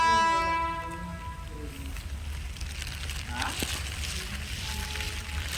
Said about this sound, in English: This place is high speed trains are coming.